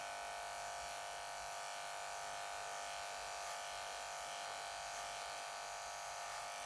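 Electric hair clippers buzz steadily and close up while cutting a fade at home, a constant high whirring drone that holds without a break throughout.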